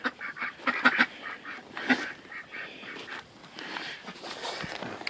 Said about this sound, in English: let's go visit the ducks